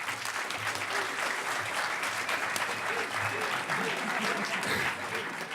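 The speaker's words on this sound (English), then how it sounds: "I'd like to give a round of applause for Mark" A hacker conference audience at its closing ceremonies gives a round of applause for the registration staff, a steady crowd clapping heard from the middle of a large hall, with faint murmuring voices mixed in.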